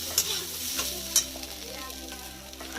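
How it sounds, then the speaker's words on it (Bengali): Chopped banana stem fries in a pan, a steady close sizzle with scraping stir strokes and a couple of sharp utensil clicks, no voices. "এদিকে বসিয়ে দিয়েছি থোর ভাজা"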